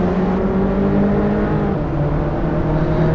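Race cars driving in a VR racing game, a loud, steady engine drone with sustained whirring tones that shift slightly in pitch, continuous and close.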